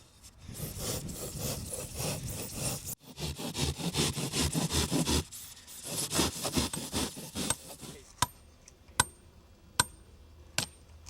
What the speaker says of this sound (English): Some 2x4s can be clamped to the foam to act as a guide while cutting the foam with a handsaw.